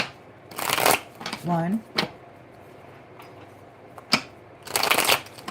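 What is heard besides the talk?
shuffling tarot cards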